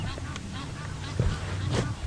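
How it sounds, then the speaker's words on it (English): Egyptian geese call repeatedly in a bush setting at sunrise, their harsh honking coming in bursts near and far, with a couple of louder calls standing out against a steady outdoor background. "the geese are calling"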